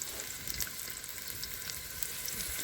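Shrimp fry in a pan with a dense, steady hiss of sizzling oil and faint pops throughout, close by with no talking.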